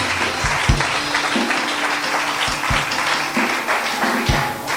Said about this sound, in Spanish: Denle un aplauso al Señor por lo menos ahí.